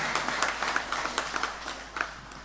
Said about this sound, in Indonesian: Tepuk tangan untuk Pak Sikda.